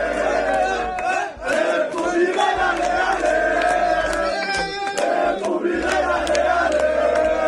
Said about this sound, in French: c'est une dame âgée qui est acclamée, célébrée par les supporters